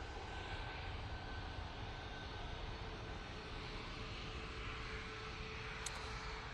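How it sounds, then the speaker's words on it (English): A Ryanair Boeing 737 MAX 8 jet taxis or rolls at Manchester Airport, giving a steady, broadband engine roar with a faint whine that holds at even loudness throughout, fairly close and unbroken. "Ryanair 737 MAX 8 now coming on in front of us."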